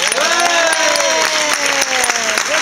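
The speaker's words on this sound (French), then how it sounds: "je voudrais que ce soir, on applaudisse tous" A live audience claps loudly and steadily for a restaurant owner at an evening tribute in La Croix Valmer, the dense applause filling the whole stretch with cheers and voices mixed in.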